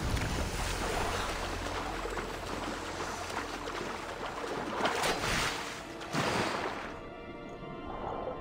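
Boat moving across open sea in Assassin's Creed Odyssey, a steady broadband wash of water and wind with swells of surf, continuous and fairly loud, thinning out near the end.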